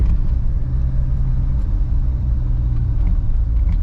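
A newly collected car on its first drive gives a steady, close engine rumble with a low road drone and no voices.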